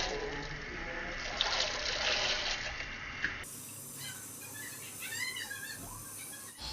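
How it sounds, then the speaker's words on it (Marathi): Sprouted beans tip into a pot of hot water while misal is cooked, giving a trickling, hissing pour followed by a quieter stretch as a voice speaks. "आता हे सर्व मोडं आपण त्याच्यामध्ये घालायचे"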